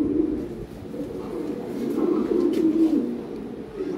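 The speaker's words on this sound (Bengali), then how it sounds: "হ্যাঁ এটা রেড অ্যাশবার, হ্যাঁ রেড অ্যাশবার লাহোরি।" A pair of large red ash-bar Lahori pigeons coo in low, throaty rolling calls. The calls are close and continuous and sit over a faint background.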